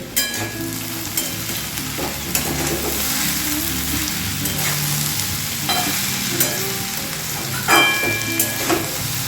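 Cauliflower and onion frying in plenty of oil in a pan for a simple winter vegetable fry, a loud continuous close sizzle with occasional stirring scrapes and clinks.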